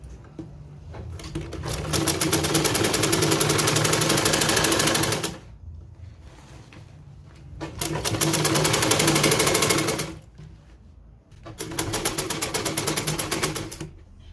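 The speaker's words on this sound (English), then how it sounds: "So I'm going to start sewing like this to give it a good finishing." A sewing machine runs in three long bursts of fast, rhythmic stitching along a finishing seam on a puffed sleeve, with short quiet pauses between runs.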